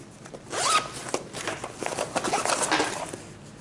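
A zipper on a camera bag pouch is pulled open in several rasping strokes, close and clear in a quiet room, with a little rustling of fabric around it.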